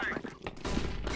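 Rapid bursts of gunfire in the Counter-Strike (CSGO) video game, loud and continuous through the second half with thumping shots, mixed with a player speaking under the game sound.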